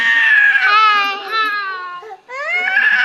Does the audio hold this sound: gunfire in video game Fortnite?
no